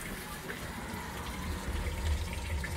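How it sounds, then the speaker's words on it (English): A garden water hose runs wide open during a bilge pump test on a Sea-Doo GTX Limited jet ski, giving a steady, moderately faint rush of flowing water with a low churning undertone. "I got the water hose running wide open."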